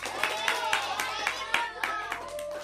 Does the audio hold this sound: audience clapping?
yes